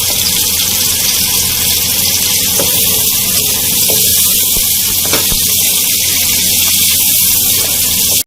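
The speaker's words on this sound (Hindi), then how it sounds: "इस प्याज को आपको अच्छे से फ्राई करना है कि इसका कच्चापन खत्म हो जाए" Chopped onions sizzling in a pan while being fried for spinach chicken (palak gosht), a steady loud broadband hiss throughout with a few faint clicks of stirring.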